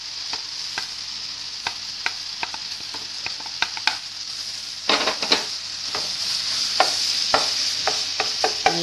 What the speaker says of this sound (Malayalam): ഇതിൻ്റെ അകത്തേക്ക് ഇട്ട് നന്നായി മിക്സ് ചെയ്യുക.